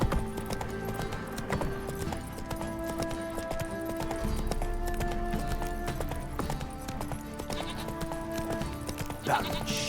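Roach, a horse in The Witcher 3, galloping with rapid rhythmic hoofbeats over steady game music, close and continuous throughout.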